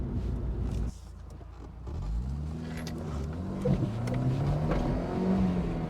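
A small 1.6 litre car engine revs up from a steady idle, its rising harmonic tones sweeping upward in a couple of climbs, close and fairly loud with no talking.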